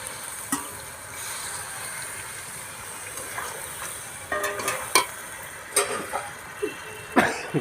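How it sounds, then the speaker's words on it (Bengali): Spice paste water poured into a pan of jackfruit curry, with a steady soft sizzle and faint liquid rustle, broken by several sharp clinks and splashes toward the end. "জল দিয়ে দেবো মশলা বাটা জল মশলা বাটা জলটা দিয়ে দেবো"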